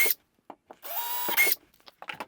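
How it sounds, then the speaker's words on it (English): A tiny 1/16 inch bit in a power drill boring pilot holes during a kayak electronics install, heard as a loud, steady whine lasting under a second between short clicks and handling knocks. "Go back to our tiny drill bit and drill those pilot holes."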